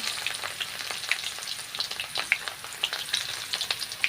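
Cumin seeds sizzle in hot oil as tempering for a boiled cluster-bean curry, a steady crackling hiss with frequent small pops throughout, close and unaccompanied by speech.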